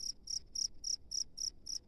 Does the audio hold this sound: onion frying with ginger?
no